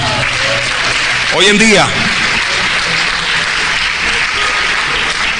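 A church congregation claps for the Lord, steady dense applause throughout with a preacher's voice rising over it briefly partway through.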